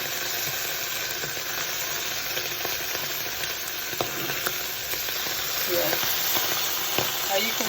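Homemade halloumi cheese sizzles steadily in a frying pan, a continuous close crackle with occasional pops and stirring scrapes throughout.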